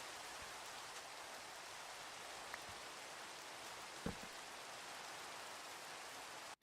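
Rain in a survival video game keeps up a constant soft hiss for several seconds, faint and even, broken only by a couple of small clicks before it cuts off abruptly.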